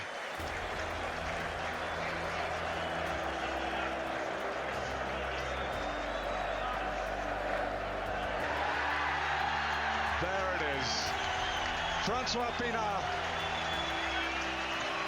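A packed rugby stadium crowd roars, cheers and applauds continuously as the president greets the captain, Francois Pienaar, with a commentator talking over the loud, sustained noise.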